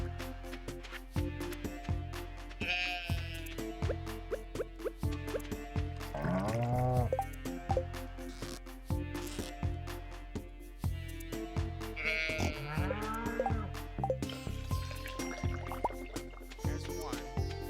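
Goat bleats in a game stream, two wavering nasal cries rising out of a repetitive musical backing with rhythmic plucked beats, moderately loud.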